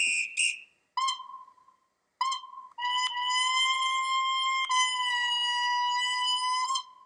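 Electronic siren effect from a LEGO Crocodile Locomotive (set 10277) with a Powered Up motor: a few short rising chirps, then a long sustained harmonic wail holding for about four seconds, close and loud with no talk.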